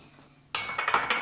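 Metal spoon clinking against a bowl while scooping flour for a kadayif dessert, a sudden close clatter followed by several lighter scrapes and taps after a moment of near silence.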